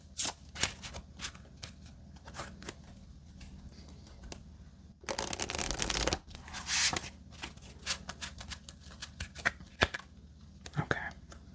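Jumbo playing cards are shuffled up close: crisp riffling flutters and soft slaps, with one longer, dense burst of shuffling in the middle and quiet card handling before and after.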